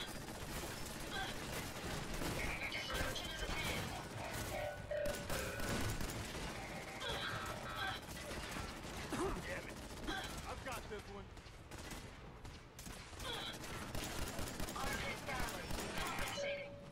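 Enemy gunfire in a Fallout 4 fight: dense rapid volleys of shots crackle continuously throughout, with muffled voices talking underneath the chaotic firefight.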